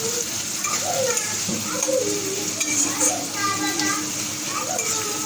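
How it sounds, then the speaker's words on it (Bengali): Onions sizzle steadily in a hot pan with a constant frying hiss, as children's voices and talk carry over it. "তো চলো তুমি পেঁয়াজটা ভাজো"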